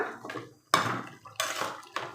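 A chilli chicken mixture is stirred in a pan, giving a few close, clattering scrapes of a utensil against metal, each burst separated by brief pauses.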